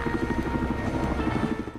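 A video game helicopter's rotor thumps in a fast, steady chop with a droning engine whine, close and loud throughout, in Battlefield Hardline.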